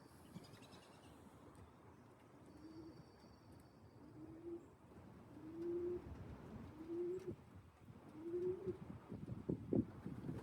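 Young pigeons at an aviary give five soft, rising coos spaced about a second apart, close by over light rustling and background noise, with a sharper flutter or knock near the end.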